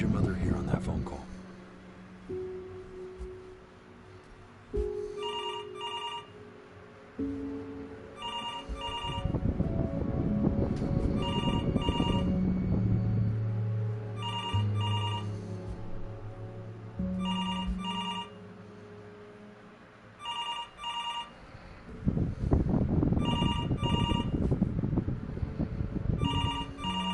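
A telephone rings repeatedly in steady, evenly spaced bursts of bright electronic trills through a scene of the video game Before Your Eyes, sounding over low rumbling music and ambience, with people talking beneath it.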